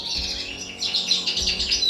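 Caged native finches chirp and tweet in a rapid, overlapping chatter, close and fairly loud, in an indoor bird room.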